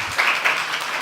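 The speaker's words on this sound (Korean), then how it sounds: "뒤에 보니까 젊은 부부 두 분 오셨는데 박수로 환영하겠습니다." A church congregation at Sunday worship applauds to welcome a young couple, a brief burst of many hands clapping together, fairly close and steady, fading quickly.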